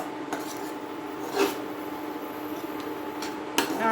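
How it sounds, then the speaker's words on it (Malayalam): A spoon stirring masala rice in a metal pan gives a few sharp scraping clinks, close and fairly faint, against a quiet room hum. "ഇളക്കി കൊടുക്കുക നമ്മുടെ ഈ ചോറിൽ ഈ മസാലയും ഇതൊക്കെ ഒന്ന് പിടിക്കണം"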